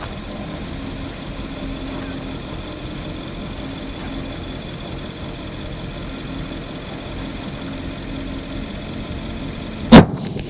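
A Savage 110 Precision rifle in .338 Lapua fires a single sharp, loud shot at night. It comes near the end, after a long stretch of low, steady background hum.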